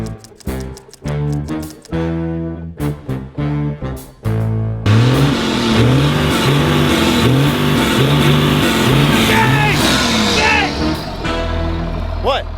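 A Ford OBS truck with a 7.3 diesel runs steadily and loudly after a few choppy starts, with its rumble climbing and falling through repeated revs up close.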